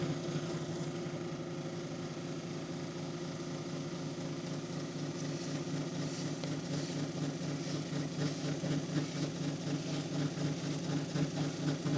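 A polishing wheel machine runs steadily while buffing a wood sample, a continuous near whirring drone with a faint rough rubbing that picks up partway through.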